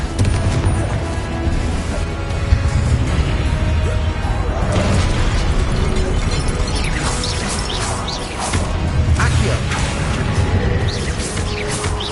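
Blasting Confringo spell explosions mixed with other spell casts during Hogwarts Legacy combat, a loud, dense run of crashes, bursts and booms over twelve seconds.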